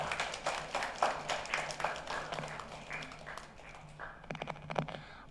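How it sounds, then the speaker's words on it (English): Women at a symposium applaud themselves, a steady spread of moderate clapping across the room that thins out toward the end, with a loud knock at the very finish. "Give a round of applause for yourself."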